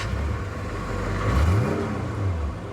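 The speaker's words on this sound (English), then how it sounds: "So the way to start a 928 is quite simple" The V8 engine of a 1978 Porsche 928 runs fairly quietly close by, with a low, steady rumble that rises in a brief rev before settling again.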